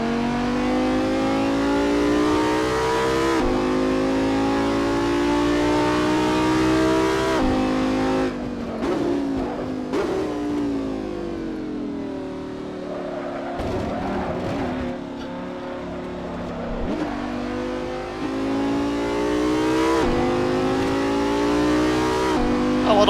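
An Audi R8 V10 engine in the racing game Assetto Corsa revs hard through the gears, a loud steady whine that climbs, drops at each shift and climbs again, with brief lifts off the throttle.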